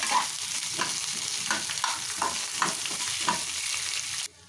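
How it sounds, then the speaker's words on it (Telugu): Onions frying with masala, ginger and garlic in a pan for raw banana kurma, a close, even sizzle with periodic scraping stirs, ending abruptly. "ఇప్పుడు వచ్చేసి మసాలా కదా కొంచెం వేగేదాకా ఇప్పుడు ఆనియన్స్ ఇవి కూడా కొంచెం మగ్గనిద్దాము."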